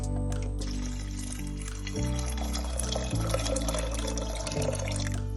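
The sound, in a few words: water poured into pressure cooker with soaked chickpeas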